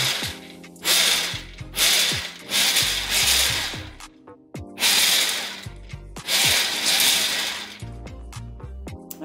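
A food processor pulses in bursts of roughly a second each, rough-chopping hard almonds on low, the blade's whir and the rattle of nut pieces rising and cutting out repeatedly with short pauses between.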